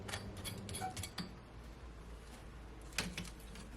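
A fork taps and scrapes against crispy broiled chicken wings in a pan, giving a few light, close clicks early on and another sharp pair near the end, over a low steady background hum.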